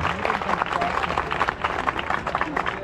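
A crowd claps continuously at an outdoor volleyball tournament, a dense, steady patter of many hands with mixed voices beneath it.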